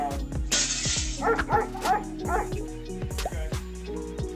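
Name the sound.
Labrador dog barking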